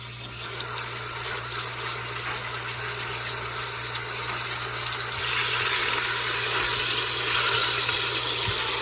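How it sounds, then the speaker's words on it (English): Oxtails sear in hot oil with a steady, dense hiss and sizzle that grows slightly louder partway through, close and continuous with no talking. "You want to hear that sizzle when you put them in there."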